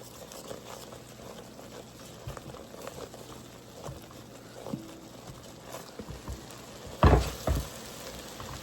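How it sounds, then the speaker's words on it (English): Milky noodle sauce being stirred in a pan, a soft bubbling simmer with faint scraping, building to a louder clatter and scrape near the end, no talk. "Just give that a stir before we throw in our noodles."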